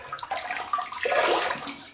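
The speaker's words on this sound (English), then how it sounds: "I just wet the face." Hot water splashing as a face is wetted at a sink before a shave: a few quick, close splashes and trickles in irregular bursts with no talking.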